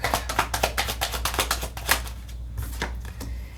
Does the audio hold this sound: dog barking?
no